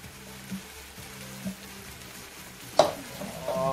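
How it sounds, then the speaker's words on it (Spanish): Sofrito hits a pan of rabbit rice, giving a soft sizzle and frying crackle with a few stirring clanks and a sharper splash near the end, fairly quiet and close. "ahora es el tiempo de añadirle este sofrito que habíamos hecho."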